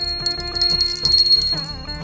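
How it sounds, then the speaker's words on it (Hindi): A bell rings repeatedly in quick bright trills, close and fairly loud, with a short pause before a final burst. "घंटी भी बजा ली।"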